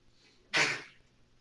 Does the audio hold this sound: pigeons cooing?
no